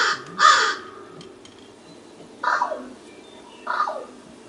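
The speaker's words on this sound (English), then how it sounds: "That's also a crow." Crow calling, three separate harsh caws spaced a second or more apart, each clear and fairly close against a quiet background.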